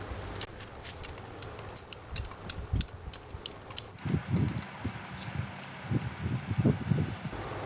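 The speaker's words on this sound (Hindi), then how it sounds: "इन सभी बोल्ट्स को खोल लेते हैं।" Casing bolts on a submersible motor being loosened with a wrench: sparse, close ticking and clicking of the tool with scattered knocks, soft at first and growing busier and louder in the second half.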